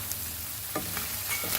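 Pork for Goan sorpotel frying in its own rendered fat, a steady close sizzle with soft stirring scrapes throughout.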